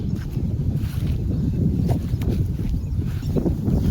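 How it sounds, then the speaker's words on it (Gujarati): Steady afternoon wind blows and rumbles across an outdoor microphone in a cotton field, a continuous low roar with gusty swells and no talking. "આજ તો બપોર પછીનો પવન થોડો વધી ગયો કાયમ કરતા"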